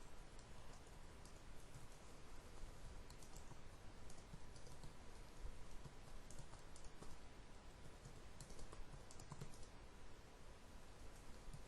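Steady keystrokes on a computer keyboard tap out a short message, a continuous run of soft clicks with no pauses, quiet and close.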